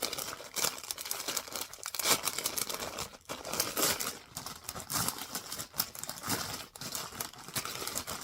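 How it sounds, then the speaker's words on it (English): Paper crinkling and rustling up close, a steady busy crackle with louder crunches and brief tears, heard alone without talk. "more crinkling"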